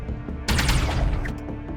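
Ship weapons open fire on enemy shields in the space combat game Void War: a sudden burst of rapid crackling shots and impacts, fairly loud, followed by lingering lower ambience.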